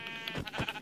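Minecraft sheep give a short, clear pair of bleats in a video game, quick and close with nothing else over them.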